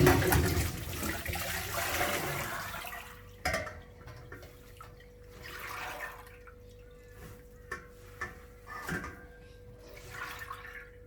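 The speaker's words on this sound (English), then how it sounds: "I'm just gonna put it into our trusty sieve over the dye pot" Dye water poured from a pot through a sieve into a dye pot, a splashing pour at first that thins to scattered drips and trickles, moderately close.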